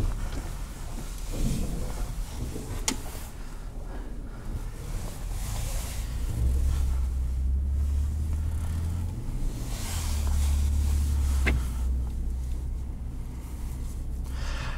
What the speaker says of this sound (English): Now let's go for a drive. Cut through the snow here.